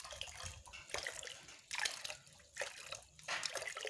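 Water runs from a fish hatchery tap into a sample container, a soft, uneven splashing and trickling with several louder surges, close by and alone.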